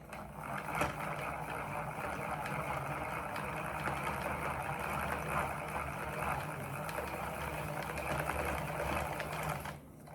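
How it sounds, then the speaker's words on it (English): A yarn winder whirs steadily as strips of cut T-shirt fabric are wound into a yarn cake, a continuous close mechanical hum lasting about ten seconds before stopping. "If you have a yarn winder, this would be super helpful to make a cake out of our yarn."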